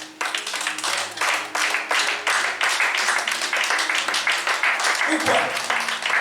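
A church congregation claps in fast, even rhythm to acclaim Jesus, a steady run of close, sharp hand claps lasting throughout while a voice speaks briefly near the end.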